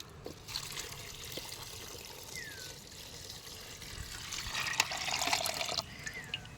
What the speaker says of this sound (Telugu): ఇప్పుడు వాటర్ వేద్దాం. వాటర్ వేయండి ఇప్పుడు.